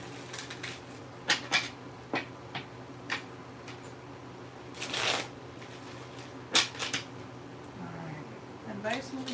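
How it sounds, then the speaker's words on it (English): A deck of tarot cards being shuffled, giving a series of short riffling and slapping bursts spread across several seconds, close and fairly quiet, with a soft voice in the background. "we're going to shuffle the deck for that advice moving forward"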